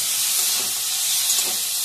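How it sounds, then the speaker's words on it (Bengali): Chopped tomatoes are stirred into hot mustard oil with garam masala and white sesame seeds. A steady, loud, bright sizzle hisses without a break, with no voices. "কড়াইতে সর্ষের তেল গরম করে গরম মশলা দিয়ে আর একটু সাদা তিলটা দিয়ে একটু লালচে হয়ে গেলে টমেটো কুচি দিয়ে নেড়ে চেড়ে নিতে হবে।"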